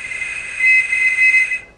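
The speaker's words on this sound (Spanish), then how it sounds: "El tono de 2600 hercios producido por el silbato reajusta el conmutador multifrecuencia de larga distancia" A loud, piercing whistle blows the 2600-hertz tone once used to control long-distance telephone switches. It is a single steady, shrill note lasting just over a second and a half, then cut off.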